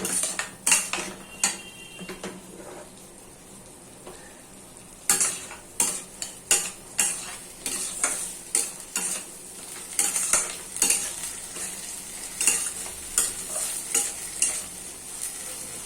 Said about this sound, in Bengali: পোস্তের মধ্যে হলুদ দিয়ে দিচ্ছি, দিয়ে একবার এটাকে কষাবো।